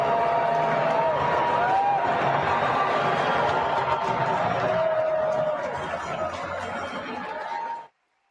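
A large crowd at a men's tennis final in New York City cheers loudly and steadily as the president arrives, with scattered whistles and shouts, before cutting off abruptly.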